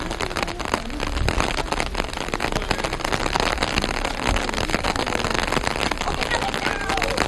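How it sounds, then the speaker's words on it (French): Steady rain patters and hisses on surfaces around Hué, Vietnam, a dense continuous wash of noise with a few heavier drops, no voices. "il pleut tout le temps ici"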